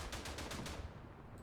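Rapid rifle or machine-gun fire in the World War I shooter Verdun, a quick burst of five or six evenly spaced shots, fairly quiet and distant, then fading.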